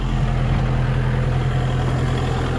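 A brand new Kubota L4060 tractor idles close by, its steady low diesel rumble holding an even, unbroken drone throughout with no talking.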